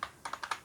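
Fingers tap a computer keyboard in a quick run of about five light, crisp keystrokes, close and clear with no one speaking.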